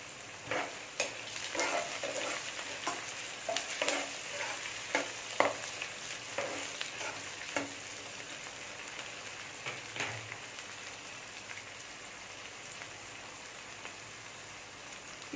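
Green chillies frying in oil in a pan for crab biryani give a steady sizzle with scattered pops and crackles, with occasional stirring clicks, close and alone throughout.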